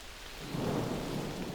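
Heavy rain pours steadily while low thunder rumbles and swells beneath it, a dense, fairly faint wash of storm noise with no voices.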